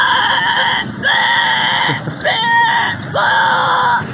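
A goat bleating loudly and close by in four drawn-out, wavering cries with short gaps between them, while a person's voice briefly imitates the bleat.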